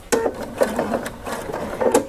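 A sewing machine backstitches on a girls' skirt, stitching forward and back in several short, close bursts over about two seconds.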